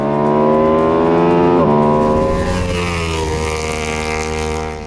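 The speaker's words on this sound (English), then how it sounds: "this one of course has the Termignoni exhaust system and it sounds otherworldly." A 2026 Ducati Panigale V2S motorcycle with a Termignoni exhaust, its loud, close engine holding a rich harmonic drone, dipping briefly and then climbing smoothly in pitch as it revs.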